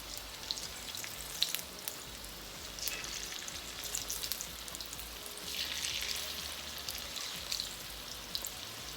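Cornbread fries in a hot skillet just after being flipped, giving a steady crackling sizzle with small popping spatters throughout, close and moderately quiet.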